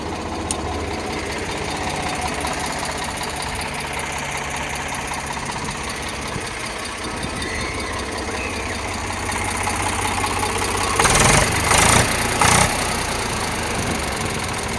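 An Eicher 485 tractor engine runs at a steady idle nearby, a loud, even diesel chug with a knocking rhythm, briefly swelling louder near the end.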